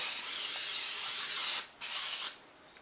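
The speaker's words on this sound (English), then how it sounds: "we're going to spray that again so it doesn't stick to your cake" Cooking spray hisses from an aerosol can into a cake pan lined with parchment, one long steady burst, a brief pause, then a shorter second burst, close by and with no talking.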